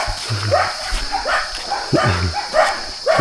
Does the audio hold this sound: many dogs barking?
yes